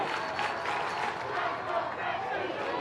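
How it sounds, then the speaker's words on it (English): The Grand Street school crowd chants at a PSAL boys 3A baseball city championship game at Yankee Stadium. A dense, steady roar of many voices fills the stadium, and a voice seems to speak over it. "here come the Grand Street crowd, getting the chants going"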